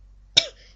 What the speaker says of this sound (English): Apologize, I'm getting a bit of a cough.